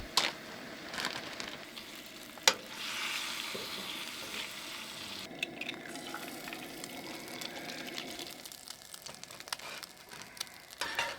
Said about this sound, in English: I got the fire going and cooked bacon and eggs as the tent slowly warmed up.